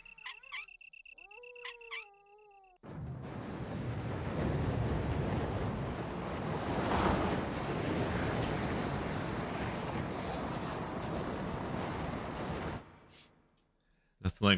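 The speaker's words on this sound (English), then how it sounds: "Drain the water." Water draining in the PC game Resident Evil: a steady, loud rushing wash that starts abruptly, holds for about ten seconds and then cuts off, framed by short game sound effects at either end.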